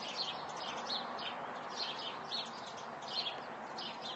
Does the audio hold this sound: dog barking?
no